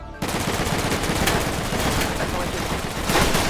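Dense gunfire from a video game, an SCP roleplay in Uranium, bursts loud and continuous after a brief quiet start, forming a rapid, overlapping barrage with voices mixed underneath.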